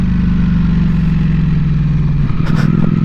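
A Ducati Panigale V4S motorcycle in race mode runs close and loud with a steady deep engine drone, then gives a few quick throttle blips near the end.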